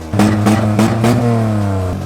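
A Daewoo Matiz engine running on brake cleaner as fuel revs up close in several quick bursts, then holds a steadier, slowly falling tone.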